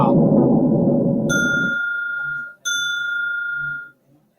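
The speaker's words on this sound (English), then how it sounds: "That's dinner bell." A dinner bell rings twice, each bright metallic strike leaving a clear ringing tone that fades, heard after a burst of low noise cuts off, with no talking over the rings.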